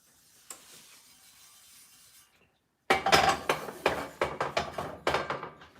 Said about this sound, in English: Now, let's go again with my rag, the one that I use mostly with coating my pans.